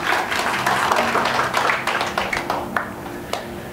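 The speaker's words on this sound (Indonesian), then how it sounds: "beri tepuk tangan dulu, ngantuk nanti" An audience at a Bible study session breaks into applause, a burst of dense clapping that thins out into scattered claps toward the end.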